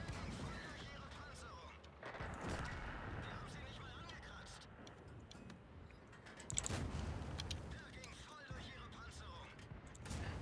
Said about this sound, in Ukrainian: Інакше мене просто артилерія задушить.